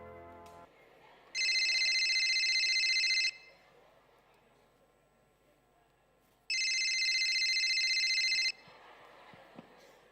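A telephone rings at night in a quiet room, two long electronic ringing bursts separated by a few seconds of near silence.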